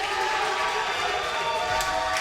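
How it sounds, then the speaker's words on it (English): A crowd in a packed hall roars and cheers steadily after the final match win at a university League of Legends esports grand final, a dense, sustained wall of noise with faint commentary beneath it. "Listen to the crowd go mental for that one."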